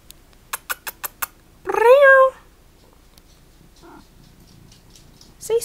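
A pet cat gives one clear, drawn-out meow at close range, preceded by a quick series of light taps, followed later by a faint short chirp and the start of another meow.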